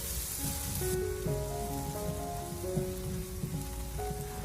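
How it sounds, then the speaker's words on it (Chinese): Scallion, garlic and chili stir-frying in a little oil over low heat, a steady close sizzle with soft crackle running throughout, with a faint tonal hum in the background. "再把葱蒜和小米椒用小火给它翻炒一下，将小料给它翻炒出香味"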